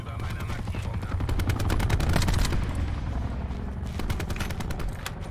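Rapid bursts of automatic gunfire in the Call of Duty Black Ops 4 video game, dense and loud across the whole stretch, with a player talking over the shooting.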